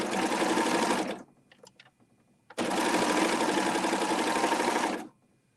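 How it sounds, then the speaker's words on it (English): A serger runs diagonally across two fabric layers to form a lettuce edge, sounding as two loud, steady bursts of fast mechanical whirring, the first about a second long and the second about two and a half seconds long, separated by a short pause with faint clicks. "So I'm going to sew diagonally on here and see if this will work."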